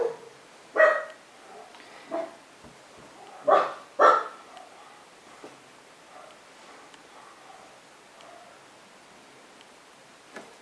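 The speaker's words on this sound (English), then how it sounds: "Scary sounding dogs outside." Several dogs bark outside at a distance, a few sharp separate barks spaced over several seconds against a quiet room.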